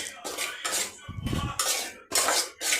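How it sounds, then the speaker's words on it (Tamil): Semolina being roasted in ghee in a pan for kesari, with a metal spoon repeatedly scraping and clinking against the pan in bursts, close and fairly loud, with a short low rumbling stir in the middle. "அந்த ரவையை வந்து நம்ம இந்த நெய் கூட சேர்த்து நல்லா வறுத்தெடுத்துக்கலாம்."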